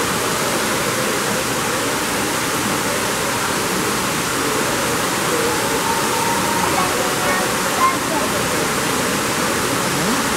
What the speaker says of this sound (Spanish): aquí está la fuente Unicentro.